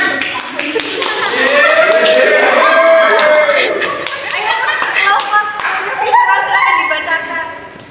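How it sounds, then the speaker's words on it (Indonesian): Classroom audience of students clapping for a group after a microteaching presentation, a steady patter of hand claps with voices talking over it throughout. "Beri tepuk tangan"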